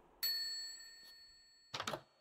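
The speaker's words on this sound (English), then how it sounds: "I can ring the bell." A bell rung in a Minecraft zombie survival modpack gives a bright ringing strike with a sustained tone that slowly decays, followed by a brief rustling burst near the end.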